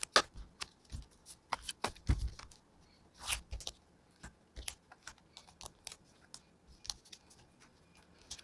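Tarot cards are shuffled by hand, giving close, crisp riffles and soft slaps in irregular bursts, quiet and intimate with no talk.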